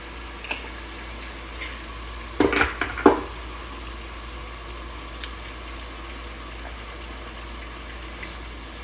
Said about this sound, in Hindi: अभी प्याज तली जा रही है